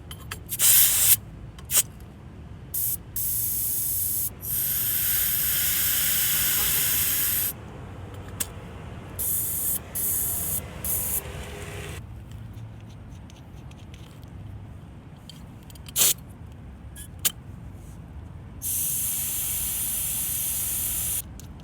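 Bursts of air hiss out of a car tire through a pressure gauge's release valve, with several long and short sprays separated by pauses and light clicks, close and loud, outdoors in a parking lot.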